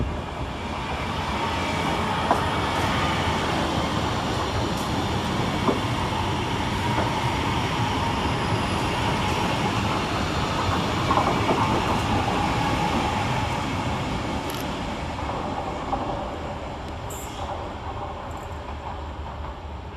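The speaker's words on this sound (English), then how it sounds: "Next to pass through the station is 331023 and 331020, working 2H08 for Northern from Blackpool North to Hazel Grove via" Northern class 331 electric multiple units 331023 and 331020, coupled, passing through Deansgate station in Manchester on a Blackpool North to Hazel Grove service: a loud, steady rumble and wheel roar lasting throughout, with occasional high squeals, no talk.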